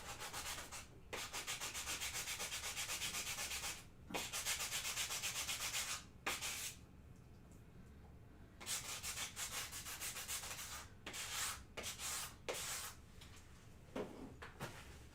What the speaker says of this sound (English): I need to just quickly hit this with a sander